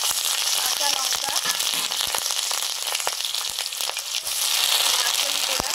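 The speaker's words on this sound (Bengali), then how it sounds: "ডালে ফোড়ন দেব, সরষের তেল দিলাম, শুকনো লঙ্কা, 5 ফোড়ন" Dried red chilies and Bengali five-spice tempering frying in hot mustard oil for dal, a loud, steady crackling sizzle with sharp pops throughout.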